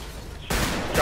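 Gunfire in a GTA police roleplay game: after a brief quieter stretch, a loud burst of shots starts abruptly and carries on as a dense, sustained volley without talk.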